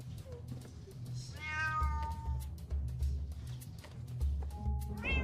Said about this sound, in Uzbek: Nega atrofda mushuklar ko'p?